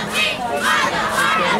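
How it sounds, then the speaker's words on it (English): Someone shouts and cheers along with a loud crowd at a youth football game, a brief burst of overlapping voices yelling together. "Start cheering, Kenna."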